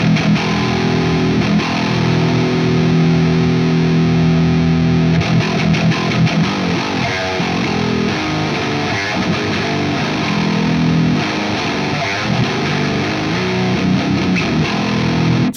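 An 8-string electric guitar plays through a heavily distorted amp tone while the mids are adjusted, a dense, loud, continuous wall of low chugging riffs with no talking.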